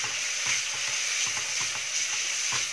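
Beetroot curry sizzles steadily in a pan while a spoon stirs in turmeric, black pepper and coriander powder, giving soft, irregular scraping clinks over the constant close frying hiss, with no talking.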